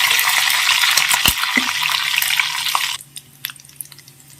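Onion powder stirred into venn pongal in a pan on the stove, giving a steady sizzling scrape with a few sharp clinks before the sound drops to quiet scattered ticks.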